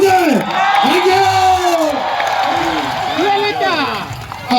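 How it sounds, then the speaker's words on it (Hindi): Audience at a live stage performance by actor Shakti Kapoor whooping and shouting loudly, rising and falling voices layered over a steady crowd din. "एक बार शक्ति कपूर जी के लिए जोरदार तालियां हो जाए।"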